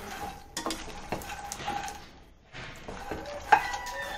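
Dal makhani ingredients fry in a pan over a medium-low stove flame, a faint crackling sizzle under irregular scrapes and light taps of a spoon against the pot, close and quiet with no talking.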